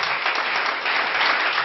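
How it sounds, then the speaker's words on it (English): A church congregation at a harvest service claps for Jesus in a short, dense burst of many hands, loud and even throughout with no speech over it. "Can we clap for Jesus?"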